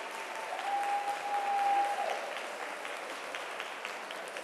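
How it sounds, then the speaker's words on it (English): A university honors convocation audience claps for a choir, a moderate wash of applause that swells briefly and then settles, with a thin whistling tone sounding over it for a moment. "Once again, really big round of applause for the choir."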